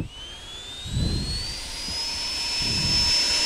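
A jet aircraft in a flight game takes off with afterburner lit, a steady roaring engine with a rising high whine climbing in pitch, fairly loud and without speech.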